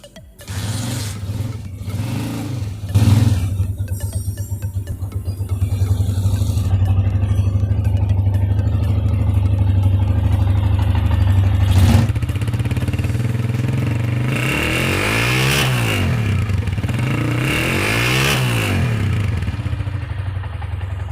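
A 1991 Honda CG 125 motorcycle engine idles with a steady, thumping rumble, then revs up and down several times before settling back.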